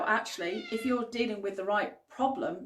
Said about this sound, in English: You may hear my cat meowing shortly because he's very loud and likes to shout a lot.